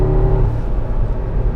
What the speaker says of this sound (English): this motor produces 450 horsepower and about 457 pounds-feet of torque